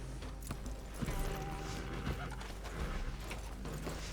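Horse hooves clip-clop steadily in the RedM Wild West roleplay game, a continuous rhythmic trot under a dense, noisy game soundscape with no voices.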